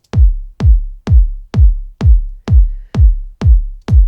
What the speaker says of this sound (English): this is what your EDM kick sounds like